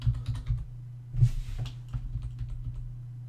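Rapid, uneven clatter of keys being typed on a computer keyboard, close and clear, with a few heavier strokes and a short burst of brighter noise partway through, no voices.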